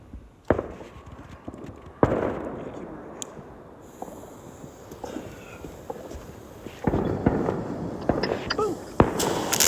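New Year fireworks go off in repeated sharp bangs and crackles, some near and loud and others more distant, scattered irregularly throughout with people talking in the background.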